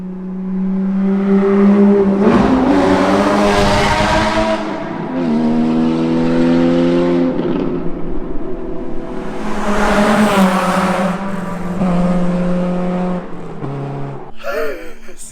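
A Porsche 981 Cayman GT4 engine roars through a tunnel in repeated loud passes, its tone rising and falling with strong harmonic drone, each surge swelling and fading as the car accelerates and echoes off the walls.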